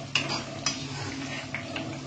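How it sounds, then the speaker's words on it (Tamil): Palm jaggery (karupatti) being stirred in a pot on a stove over low heat: a few sparse, soft clinks of the spoon against the pot over a quiet, steady background. "ஸ்டவ் கொஞ்சம் ஸ்லோவாக வச்சுட்டு அப்படியே நம்ம கலந்துகிட்டே இருக்கணும்."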